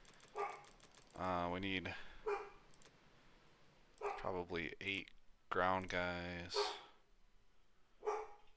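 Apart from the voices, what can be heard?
dog barking in the background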